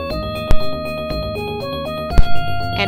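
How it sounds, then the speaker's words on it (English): A mobile phone ringing indoors, a steady melodic electronic ringtone with a clear repeating pattern, loud and close, with a couple of brief knocks over it. "My phone is actually ringing."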